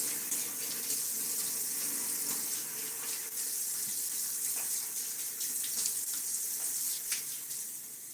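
Water runs steadily from a tap for a cool rinse, a close continuous hiss and splash with small shifts as something passes under the stream. No one speaks.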